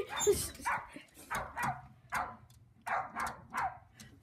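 Dog barking in a series of about eight short, sharp barks at irregular intervals, fairly close and moderately loud, with no clear speech.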